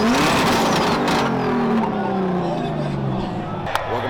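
750hp Enjuku Nissan Skyline doing a burnout, its engine revving loud and continuous with rising and falling pitch, under a background of crowd babble and talk.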